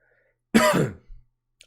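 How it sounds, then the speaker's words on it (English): A single close, sharp cough, a gravelly throat-clearing burst followed by a smaller rasp, alone in near silence. "I'm getting a bit of a cough"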